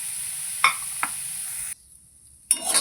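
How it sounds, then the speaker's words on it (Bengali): Vegetables and ginger frying in a pan for a chicken momo soup base, a close, hissing sizzle with two quick knocks of a spoon, then a sudden brief silence before the sizzle and stirring return. "আদাটাও ভেজে নেবো, দিয়ে দিলাম।"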